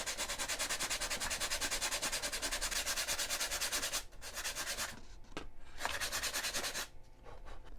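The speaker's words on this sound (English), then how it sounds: "I finished doing that sanding to remove the paint" Paint being sanded off the wing root of a Durafly Vampire EDF RC jet, a fast rhythmic back-and-forth rasping that runs steadily, then breaks into shorter strokes with brief pauses.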